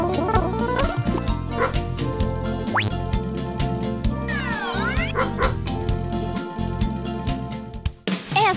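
A dachshund (teckel) barks in short bursts over loud, continuous music with sweeping effects, during a televised dog program.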